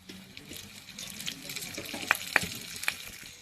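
Soft sizzling of curry leaves, a dried chilli and mustard seeds frying in a little white oil, fairly quiet, with a few sharp pops and spatters near the end.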